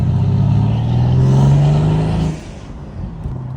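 A Stage 3 Mercedes-AMG C63 revs loudly inside a tunnel, its exhaust droning before the throttle snaps shut. The engine then drops off into a few softer pops that echo off the walls.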